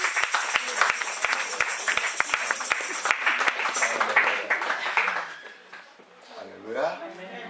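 A church congregation claps in a quick, even rhythm for a few seconds, then the clapping fades under voices singing and speaking.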